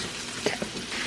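Chicken quesadillas just flipped in a pan give off a brief, moderate sizzle, with a couple of soft knocks partway through.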